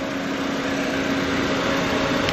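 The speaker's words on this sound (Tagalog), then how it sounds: "Tahimik na tahimik din makina." A Toyota dual VVT-i engine idles in a repossessed sedan or utility vehicle, giving a smooth, steady, even hum with a faint whine and no rise or fall in pitch, and no talk over it.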